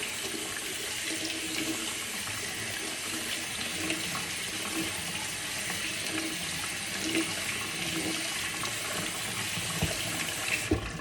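Tap water runs steadily into a kitchen sink to rinse hot cooked pasta noodles, a continuous close gushing stream with no talk over it.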